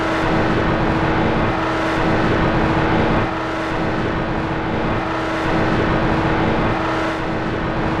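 A loud, steady mechanical rumble with a droning hum from an elevator moving in the video game Thief 2: The Metal Age, rising and falling slightly in waves, continuous and close with no talking.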